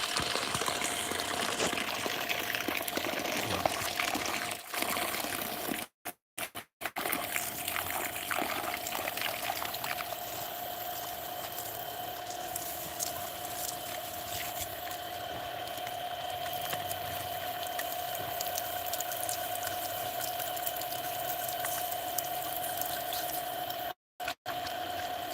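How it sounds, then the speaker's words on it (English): A Ryobi ONE+ HP 18V brushless cordless battery transfer pump runs steadily with its hose crimped, giving a continuous motor whine over constant pouring, trickling water, with a few brief dropouts. "So I'm gonna crimp this hose while it's running."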